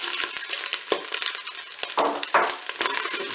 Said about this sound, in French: Et maintenant ajouter le boulgour. Je mélange.